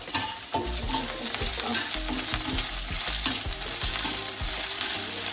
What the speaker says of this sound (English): I'm going to put in this saltfish into the pot.